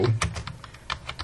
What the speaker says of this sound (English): In A3, we start typing in Joe